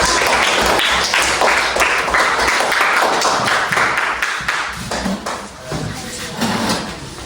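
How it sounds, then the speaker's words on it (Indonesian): A group of people clapping together in a burst of applause, fairly loud, tapering off toward the end. "Ya, tepuk tangan semua ya."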